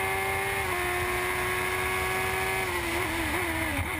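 A Formula Gulf 1000 race car's engine at Dubai Autodrome holds a loud, steady high-pitched drone from an onboard position, wavering as it changes pitch near the end.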